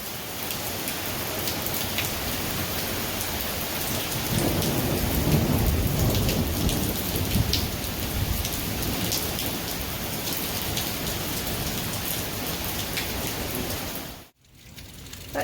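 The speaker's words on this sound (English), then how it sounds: "We haven't had a good thunderstorm yet this year. We're having it now." Heavy thunderstorm rain pours steadily with deep rolling thunder swelling underneath, loud and continuous, then cuts out abruptly near the end.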